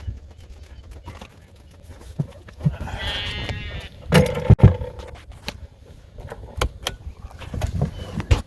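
A sheep bleats at a moderate distance, with a few wavering cries in the middle, among scattered thumps and rustling outdoor noise.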